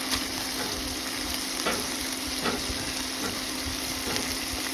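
Shrimp sizzle steadily in a pan on top of caramelized onions for paella, a loud, constant frying hiss broken by a few soft stirring scrapes.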